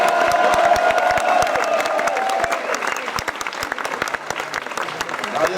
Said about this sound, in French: Vous pouvez l'applaudir aussi chaleureusement.